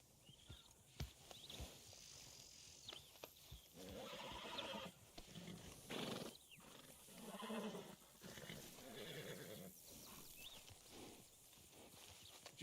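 A horse in the video game Red Dead Redemption 2 whinnies and snorts while hooves clip-clop nearby, heard fairly faintly over an outdoor game ambience.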